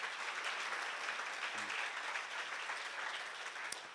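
Applause rises from a church congregation at a Christian seminar, a steady, faint wash of many hands clapping for the whole stretch, with no voices over it.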